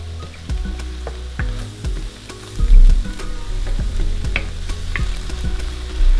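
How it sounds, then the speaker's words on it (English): Diced meat browning in a frying pan, a loud close crackling sizzle with steady popping and stirring scrapes throughout, no talk. "The minute I get everything browned, it's good."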